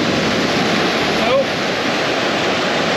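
Waterfall at a campsite, a steady broadband roar of rushing water heard continuously and moderately loud, with a faint short tone near the middle.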